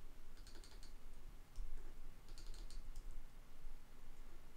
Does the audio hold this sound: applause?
no